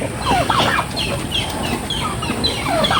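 Turkeys and breeder chickens in a farm pen, a busy overlapping chorus of clucks, chirps and gobbling calls repeating throughout over steady outdoor background noise.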